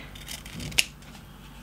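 Scissors snip through thick double-sided foam tape during an Easter craft project, two short crisp cuts heard close up, one midway and one at the end, over quiet room noise.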